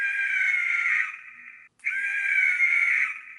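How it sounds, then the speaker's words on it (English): A Ghostface Scream promotional collectible's button sets off a shrill electronic scream, held for about a second and a half, breaking off briefly, then sounding again just as loud, with a faint rhythmic ticking underneath. "it just does the one scream"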